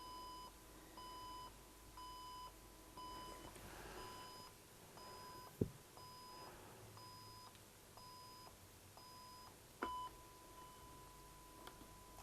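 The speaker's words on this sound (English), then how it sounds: "I can turn the alarm down if I don't like it." A warning alarm on a Sony DSR-570 camcorder gives steady, evenly spaced electronic beeps at moderate volume, with a couple of sharp handling knocks and no talking.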